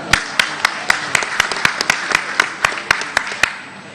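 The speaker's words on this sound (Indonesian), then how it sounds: "Kita berikan tepuk tangan yang meriah." Scattered applause from a small audience at an Indonesian gathering, about a dozen distinct sharp claps in an uneven rhythm over a few seconds, close and fairly loud, fading toward the end.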